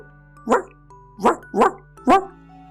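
A puppy gives four sharp, high barks, one after another with short pauses between them, heard close and clear over a faint steady hum.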